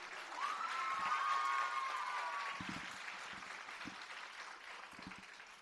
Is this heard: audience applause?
yes